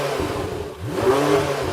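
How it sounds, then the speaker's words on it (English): Naturally aspirated V8 of a Porsche 918 Spyder revving briefly, a short rising engine note heard at some distance and fairly quiet. "revving up the naturally aspirated V8 in the Porsche."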